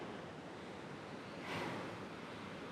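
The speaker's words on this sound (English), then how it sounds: "a stunning brook." A brook flows beside a snowy trail used as a snowmobile corridor on the Three Ponds Trail in the White Mountains, a steady close rush of water with a brief swell midway.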